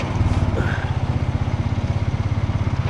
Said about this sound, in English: now, we're coming to a hill, so I'm going to downshift it